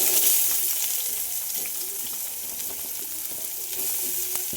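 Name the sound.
sliced onions added to hot cooker, sizzling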